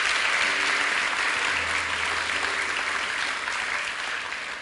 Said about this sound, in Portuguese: Dá uma salva de palmas para Jesus.